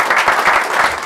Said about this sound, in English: somebody give a little clap for this guy here